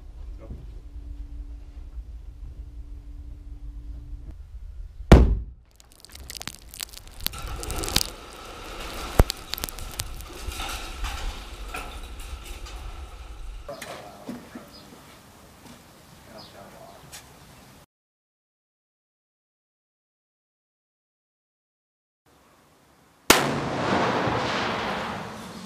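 Blast from C4 plastic explosive set off by U.S. Marines at a demolition range: a sharp, loud detonation at about five seconds, followed by a long rumbling and crackling tail, with shouting voices before it and another burst near the end.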